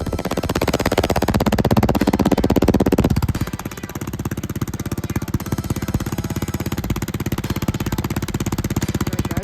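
Small lawn tractor engine, fitted with a homemade flame-thrower exhaust, runs loud and close: a harsh, rapid-firing clatter with a heavier burst for the first few seconds, then settling into a steady, rough idle with no talk.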